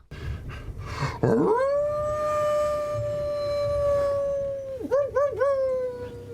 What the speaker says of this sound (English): Chetney transforms into a wolf and lets out a wild howl.